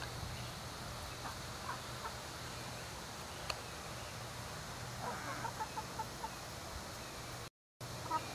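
Chickens cluck quietly in the background, a scatter of short soft clucks over a low steady hum, faint and some distance away, with no voices.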